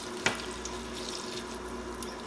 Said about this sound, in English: Putting the water in here.